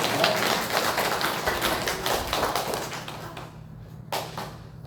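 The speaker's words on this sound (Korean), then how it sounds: "이 모든 영광을 우리 하나님께 박수로 올려드리겠습니다" A church congregation applauds during a Sunday worship service. The dense clapping is fairly loud at first, then thins out and fades after a few seconds, leaving a few scattered claps at the end.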